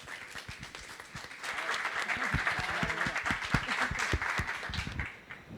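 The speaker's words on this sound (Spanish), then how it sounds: "Recibámoslos con un aplauso de bienvenida" Welcoming applause from an audience at a book and culture festival talk, steady dense clapping that builds after a soft start and holds throughout, fairly distant, with no talk over it.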